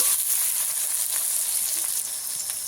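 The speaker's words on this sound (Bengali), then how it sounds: "টমেটো দিয়ে দেব টমেটোটাকেও ভালো করে ভেজে নেব" Chopped tomatoes sizzle and fry in hot oil with garlic and onion, a steady close crackling hiss running throughout without speech.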